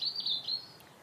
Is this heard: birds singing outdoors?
yes